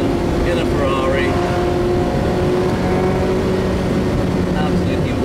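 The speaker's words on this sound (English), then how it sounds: "Sunset at Silverstone, in a Ferrari." A Ferrari race car driving at Silverstone at sunset, its engine a steady, loud drone with broad road and wind roar throughout, the sound continuous and close, with a voice faintly present underneath.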